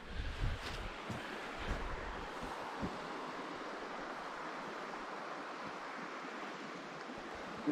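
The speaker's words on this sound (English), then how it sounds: "A good stream of water going down through." Water of the Keswick River streams past in a steady wash and rush heard at close range, with a few low thumps of wind against the microphone early on.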